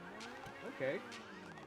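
A car alarm in the Grand Theft Auto video game, a faint repeating electronic wail with rising and falling tones, heard under someone talking.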